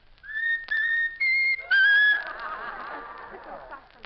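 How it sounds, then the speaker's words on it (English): A bird whistles a short tune, four clear, high, rising notes in quick succession, the last one held longer, followed by a softer trailing warble. "How about whistling the tune that you like best of all?"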